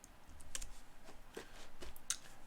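Faint, close typing on a computer keyboard: scattered soft key taps in an uneven rhythm over a low background hum, with no speech.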